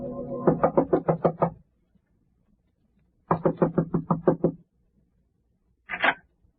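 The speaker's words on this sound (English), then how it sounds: "I must have imagined someone knocked." Knocking on a door in a dramatised radio-style scene: two quick bursts of about seven sharp raps each, separated by silence, then a single short knock, close and clear with no one speaking.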